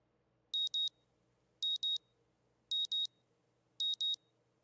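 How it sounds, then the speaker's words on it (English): An alarm clock rings in the Katawa Shoujo visual novel: four clean pairs of quick electronic beeps, evenly spaced about a second apart, bright and clear over a faint low hum, with no voices. "the sound of my alarm quickly has me up and about"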